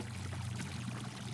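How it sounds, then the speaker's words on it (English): A steady water-stream jet sprays in a video game, a soft continuous rushing pour held at low volume for a moment with no talk over it. "Fucking water stream jet"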